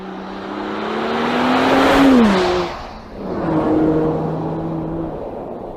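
Mercedes-AMG GLE 53 Coupe accelerating hard from a standstill to about 90 km/h, a loud engine roar rising in pitch through one gear, dipping briefly at a shift, then pulling strongly again.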